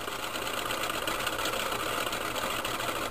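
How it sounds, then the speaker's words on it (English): Simple three-phase AC motor spinning down after power is cut, giving off a steady, dense whirring hum with no voices. "let it spin down, and we will try a different rotor and see what happens"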